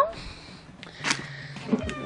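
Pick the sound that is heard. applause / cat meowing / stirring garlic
cat meowing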